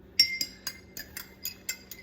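Glassware clinking while an iodine clock reaction solution is stirred: a rapid series of about eight light, bright taps in a loose rhythm, close by, with no talk.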